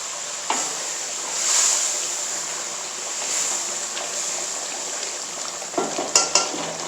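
Whole cumin seeds dropped into a frying gravy in a pan for white egg korma, giving a steady moderate sizzle with soft stirring swells and a few short crackles near the end, no talking.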